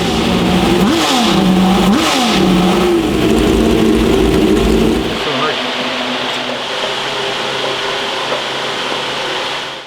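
A manual C8 Corvette drift car on a dyno rises and falls through two sharp revs, then its engine noise drops to a lower, steadier drone. The engine is loud and close, with a voice talking over it.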